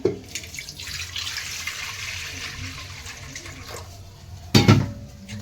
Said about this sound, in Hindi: यहाँ पे चढ़ा देती हूँ कुकर में पानी